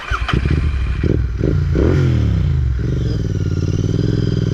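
A Royal Enfield GT650 motorcycle on a night ride in Hyderabad, its twin-cylinder engine revving up loudly then settling into a steady, throbbing drone close to the microphone.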